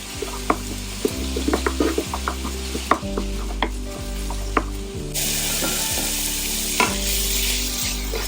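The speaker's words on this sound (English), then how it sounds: "Alright, now that it's seared, I'm gonna start to break it as small as possible." Ground beef searing in a pan and being broken into small pieces, with a steady sizzle under rhythmic scraping and clattering of a utensil against the pan, close and without talk.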